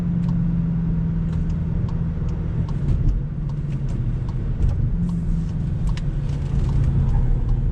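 A 2019 VW Jetta GLI Autobahn, a front-wheel-drive car, is heard from inside at a steady low engine and road rumble while it drives and makes a right-hand turn, with faint ticks and clicks over the drone.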